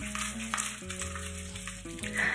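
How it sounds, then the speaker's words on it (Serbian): Caramel boiling in a pot is stirred continuously, giving a soft, steady bubbling sizzle with faint scraping, quiet and close throughout. "Non stop mešajte kako ovaj karamel ne bi potamnio i zagoreo"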